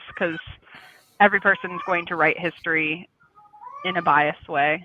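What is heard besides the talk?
cat meowing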